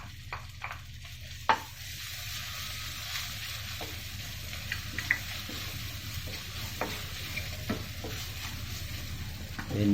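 Grated ginger and garlic stirred and sizzling in a pan while cooking sweet corn soup, a soft steady fry with scattered taps of a spoon against the pan.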